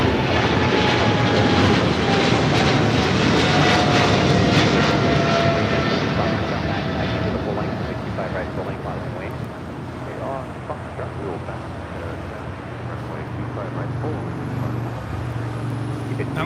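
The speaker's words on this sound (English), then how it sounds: "That was China Airlines cargo 5382 taking off to Miami, Florida on a 777 freighter" A China Airlines cargo Boeing 777 freighter takes off from LAX, a loud, steady jet roar filling the whole stretch and easing slightly as it climbs away, with wind buffeting the microphone.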